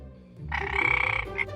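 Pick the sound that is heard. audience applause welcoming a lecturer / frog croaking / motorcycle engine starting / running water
frog croaking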